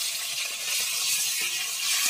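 Pieces of goat meat fry in hot oil in a home kitchen, giving a steady, close, hissing sizzle that holds evenly for about two seconds with no voices over it.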